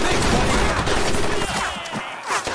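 A loud fusillade of close gunfire in Medal of Honor: Pacific Assault, dense overlapping shots that ease off toward the end, with no talking.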